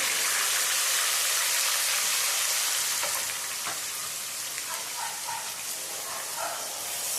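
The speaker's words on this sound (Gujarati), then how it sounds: "અને હવે આપણે એને પહેલાંની થોડીક સાતળવા દઈશું।" Onion puree with garlic sautéing in a pan for a Gujarati paneer curry, a steady broad sizzle that stays loud throughout with faint bubbling and no talk.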